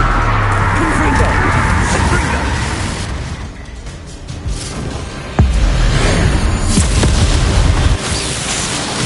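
Fiery Confringo spell blast in the Hogwarts Legacy video game, a loud, dense burst of explosive noise with sharp impacts partway through, cast amid battle sounds while a voice speaks over it.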